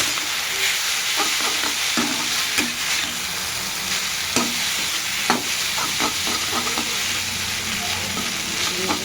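Maggi noodles with masala sizzle in a frying pan while a spoon scrapes and stirs in repeated strokes, loud and close over a constant frying hiss.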